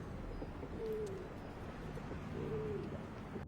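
Pigeons coo twice in a film scene, each soft warbling call rising briefly above a steady low background hum, spaced about a second and a half apart.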